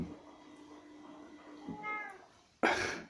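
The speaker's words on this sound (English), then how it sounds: "The cat's just come downstairs." A cat meows indoors, a faint drawn-out call followed by a sudden louder, sharper meow close by, with no talking.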